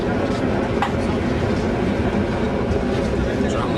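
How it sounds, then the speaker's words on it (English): Trams roll through a city street in the Czech Republic, a continuous rumbling rail clatter passing nearby at steady loudness, with people talking in the background. "Trams are going now."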